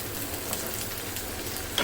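Ginger garlic paste frying in oil in a pan while cooking an egg korma, giving a steady, close sizzle with a brief stir of the pan near the end.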